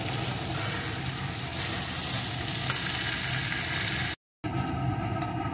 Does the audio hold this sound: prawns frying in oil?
yes